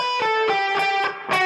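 A short burst of distorted electric guitar plays a riff phrase once more, several quick picked notes ringing together, loud and close with no voices.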